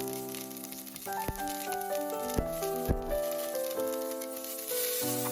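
Chopped white spring onions sizzling in a teaspoon of oil in a saucepan on a hob over medium heat, a soft steady hiss with a few sharp taps of stirring, under background music.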